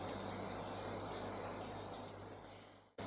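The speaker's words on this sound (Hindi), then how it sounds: "बैकग्राउंड में बहुत आवाज़ आ रही है क्योंकि बहुत तेज़ यहाँ पे बारिश हो रही है।" Heavy rain falls outside during kebab cooking, a steady, dense, broadband wash of water noise that stays even and quiet in the background before ending abruptly.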